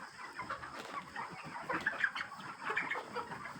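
Chickens on a poultry farm clucking steadily, many birds at once, a busy murmur of overlapping clucks with a few sharper calls rising above it.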